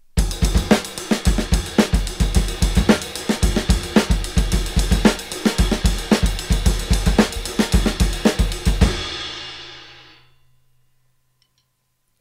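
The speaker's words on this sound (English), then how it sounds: "If you move that over to the ride cymbal" A drum pattern played on the ride cymbal, with two different-sounding ride cymbals, rings out in steady, bright repeated strokes over punchy low kick hits for about nine seconds, then decays into silence.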